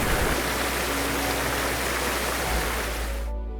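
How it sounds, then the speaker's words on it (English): The cascades of Iguazu Falls, amid rainforest, roar loud, close and continuous as a dense wash of falling water that cuts off sharply at the end. "You are standing amidst hundreds of cascades roaring in unison"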